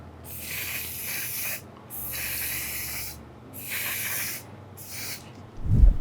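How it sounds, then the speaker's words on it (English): Bursts of matte setting spray misted onto a made-up face, several short hissing sprays separated by pauses, close and fairly loud, with no talking. "I'm going to set the makeup with some setting spray from One Side Beauty. It's a matte setting spray."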